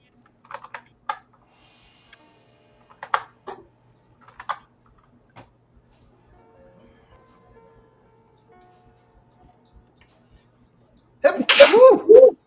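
A boy sneezes once, loud and close, as a sharp burst at the end, after earlier light clicks and a few faint taps in a quiet room.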